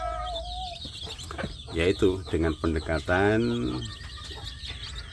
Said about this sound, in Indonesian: Ini seperti kalau ayam kampung di kandang saya ini